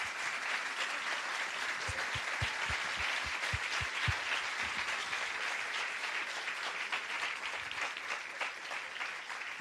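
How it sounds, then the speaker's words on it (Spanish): Steady audience applause for a professor after a lecture on the constitution, a dense, even patter of many hands clapping at moderate distance with no voices over it. "Un aplauso para el profesor Fernando Atria"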